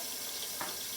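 Water poured off potatoes in a cooking pan, a short splashing pour alone at low level over a steady hiss.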